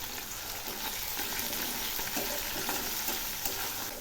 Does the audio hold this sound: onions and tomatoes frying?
yes